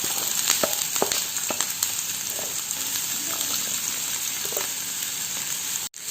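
Two chopped onions sizzle steadily in about two tablespoons of hot oil in a pan, a close, even crackle with a few stirring scrapes and a brief clatter near the end.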